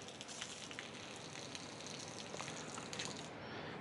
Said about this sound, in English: We'll just get the outside shower. Outside faucet, I suppose. Get all that antifreeze out of there.